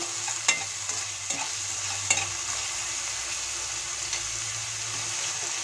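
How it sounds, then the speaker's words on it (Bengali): Onion fries in a pan with a continuous soft sizzle, punctuated by a few clinks and scrapes of a spoon stirring close by. "ভেজে নেব পেঁয়াজটা"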